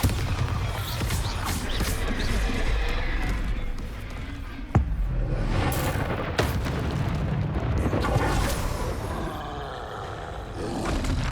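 A Bombarda blasting spell explodes in the Hogwarts Legacy video game with a loud, rumbling boom over dense, continuous game noise and crackling debris.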